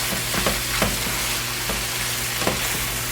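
Finely chopped vegetables are stirred in a pan over steady broadband sizzling, with a handful of scraping strokes from the utensil at irregular intervals, close and fairly loud.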